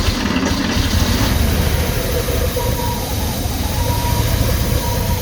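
An old barn-find Porsche 911 engine spins over on the starter, a loud dense low rumble and churning that continues without a break throughout.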